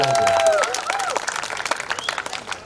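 Audience applause at a roka ceremony, a dense wash of many hands clapping that starts loud and thins slightly, with voices and cheers mixed in.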